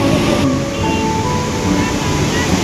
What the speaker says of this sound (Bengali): এটা ফারাক্কা ব্রিজ অনেক জল ছাড়া হয়ে গেছে